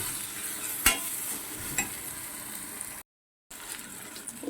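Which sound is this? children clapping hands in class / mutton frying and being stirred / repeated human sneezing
mutton frying and being stirred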